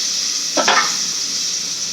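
Onions frying in a pan for a chicken gravy, a steady hiss with one short burst of stirring scrape midway, close and fairly loud, no voices.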